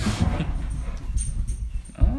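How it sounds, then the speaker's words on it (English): A dog whimpers softly against a constant, loud background rumble. Short yips or whines come through the noise, with no clear talking. "Are there multiple dogs here?"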